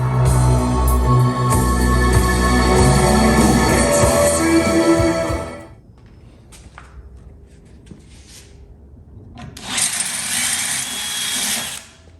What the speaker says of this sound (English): So I just drilled the holes to mount these.